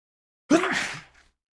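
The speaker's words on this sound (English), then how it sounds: "It's a sneeze." One close, sudden sneeze bursts out after a moment of silence and trails off quickly, with no talk around it.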